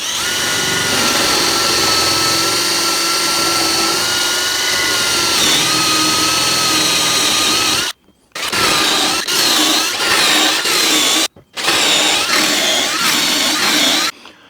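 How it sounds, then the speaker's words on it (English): A cordless drill bores holes into shelving, its loud motor whining steadily and shifting pitch under load, then stopping and restarting in several short bursts toward the end. "I'm going to drill the holes till I reach that high-tech depth stop."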